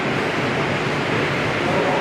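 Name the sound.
dehumidifier running inside a water treatment plant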